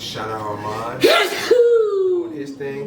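One abrupt, loud sneeze bursts out amid casual podcast chatter, and speech carries on around it.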